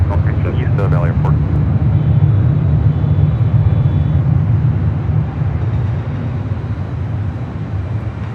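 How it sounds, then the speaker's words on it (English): A Delta Boeing 767-400ER rolling down runway 24 left at LAX for takeoff, producing a loud, steady roar of jet engines, with a brief voice of radio or nearby speech. "the Delta 767-400ER heading to JFK now rolls down at 24 left"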